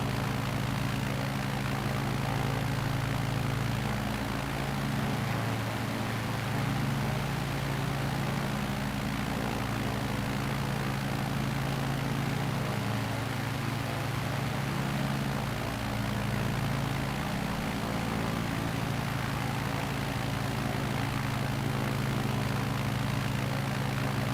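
A small propeller bush plane climbing up a river valley drones loudly and continuously from inside the cabin, a steady engine and propeller hum with no voices.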